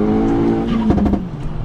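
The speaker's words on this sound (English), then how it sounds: "It's a four-cylinder engine, 2-litre, single turbo, and absolutely mental." A 2-litre single-turbo four-cylinder VW Golf Edition 30 pulls hard under acceleration, its engine note loud and close with a steady harmonic drone that shifts in pitch, and no talk over it.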